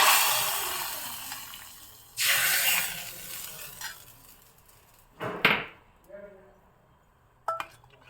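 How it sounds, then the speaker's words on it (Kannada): Hot tempering of dal, a pinch of asafoetida, curry leaves and a small piece of dry chilli is poured in, giving a sharp sizzling burst with clinks of a metal pan and spoon, then quieter crackling and a few later clatters. "ಒಂದು ಅರ್ಧ ಚಮಚ ಬೇಳೆ ಹಾಕಿದ್ದೀನಿ ಮತ್ತು ಒಂದು ಚಿಟಿಕೆ ಇಂಗು ಕರಿಬೇವು ಒಂದು ಸಣ್ಣ ಪೀಸು ಒಣಮೆಣಸು ಒಗ್ಗರಣೆ ಚೆನ್ನಾಗಿ ಬೇಯಿಸ್ಕೊಂಡು ಇದಕ್ಕೆ ಹಾಕ್ತೇನೆ"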